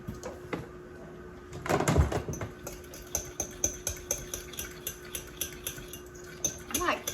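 Turmeric is shaken from a spice jar into a banana and honey dog treat mix in a home kitchen, making a run of quick, light rhythmic taps and rattles after a clatter of bowls and utensils.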